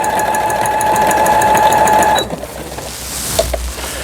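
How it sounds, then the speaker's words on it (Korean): A Brother XL 9500 sewing machine, freshly repaired with its bearings serviced, stitches slowly with a rapid, even mechanical whir and ticking. It stops abruptly partway through, leaving faint handling noises. "슬로우로 박음질 하시면 좋겠습니다."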